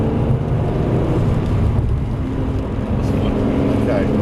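Ferrari 575 Maranello engine pulling hard on a racetrack as the driver gets back on the power, a loud, steady low drone heard from inside the car, with an instructor talking over it.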